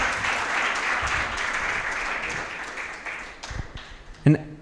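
An audience applauds at a benefits launch event, a dense wash of clapping that fades gradually over several seconds, ending with a short loud thump, with a voice speaking over it.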